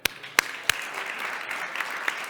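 Sparse, low-energy audience applause at a startup talk, a few sharp louder claps near the start over a thin steady patter of hands that stays fairly quiet throughout.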